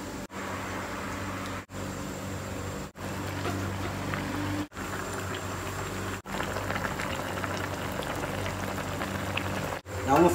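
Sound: fish head, bones and slices cooking in pot

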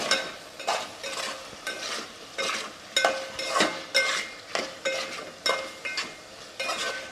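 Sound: stirring egg curry in a pan

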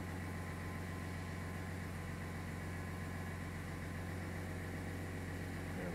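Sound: 2020 GMC 1500 Duramax diesel engine idling

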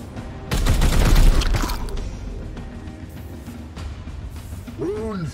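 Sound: gunfire from a shot in the video game Warhammer 40,000: Chaos Gate Daemonhunters

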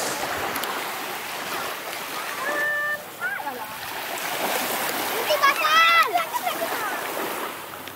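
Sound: beach at Pantai Kijing, Mempawa

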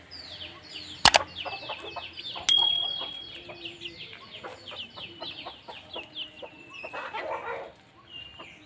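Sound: rooster and hen clucking

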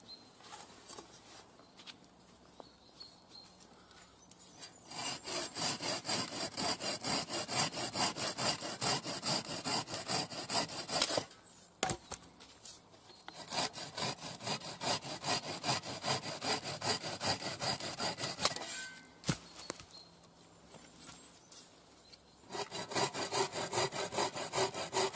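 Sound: sawing wood with a bow saw

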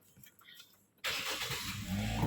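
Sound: car engine starting with push-button start

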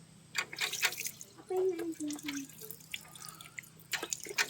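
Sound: washing a scooter shock cover with water

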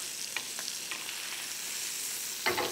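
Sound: lamb sizzling in pan while being basted

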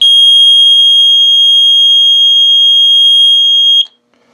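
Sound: bilge alarm buzzer

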